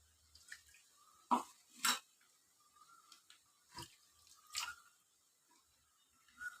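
A bowl being rinsed with water in a home kitchen, heard as sparse drips, splashes and clinks of the bowl, close but quiet against near silence.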